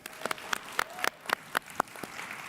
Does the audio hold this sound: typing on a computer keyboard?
no